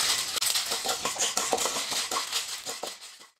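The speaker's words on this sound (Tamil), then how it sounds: "இது எல்லாத்தையும் சேர்த்து கொஞ்சம் பொன்னிறமாக வர வரைக்கும் வறுத்த போதும்." Urad dal, chana dal, black pepper and dried chillies are dry-roasted in a pan, giving a close, steady rattle and scraping of a utensil stirring the grains against the metal, with no talking.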